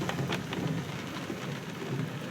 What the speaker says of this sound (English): check out what it's like to drive in Southern California rain